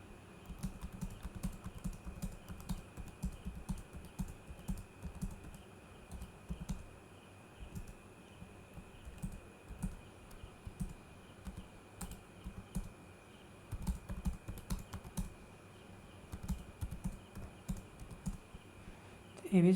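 Keys clatter on a computer keyboard during Excel data entry, a fast irregular run of soft clicks in bursts with short pauses, close and quiet, with a faint steady electronic whine underneath.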